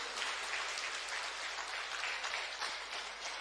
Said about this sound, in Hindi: जोरदार तालियां होनी चाहिए, उनको भी लगे कि हाँ मेरे कहने पे तालियां बजी थी।